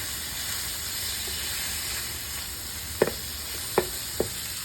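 Meat and ham sizzle in a pan while being mixed for a meat paella: a steady close hiss of frying, broken by three short scraping clicks of a utensil near the end.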